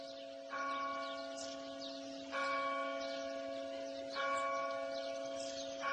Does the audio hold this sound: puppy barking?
no